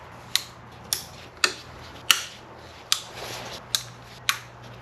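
Wiring harness connectors snap into place on a 2010-2013 Hyundai Santa Fe 3.5 engine during intake manifold work: eight crisp, close clicks spaced about half a second apart over a quiet background.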